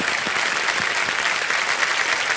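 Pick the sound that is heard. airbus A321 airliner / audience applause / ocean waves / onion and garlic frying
audience applause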